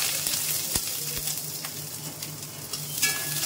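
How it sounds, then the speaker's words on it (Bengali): Diced onion frying in a pan with very little oil for a paneer dish, giving a steady loud sizzle with a few sharp clicks and pops of stirring and food hitting the pan. "পেঁয়াজটা দিয়ে দিলাম।"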